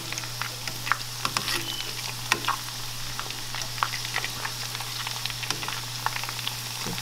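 Chicken tenders frying in hot oil for flaming hot tenders, a steady close sizzle with crackling pops and spatters throughout, alone without any voices.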